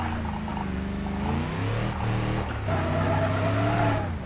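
A car engine in a video game labours up a steep slope, a steady droning hum whose pitch rises and shifts as the vehicle climbs, loud and continuous with no talking over it.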